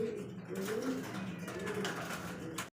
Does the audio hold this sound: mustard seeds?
no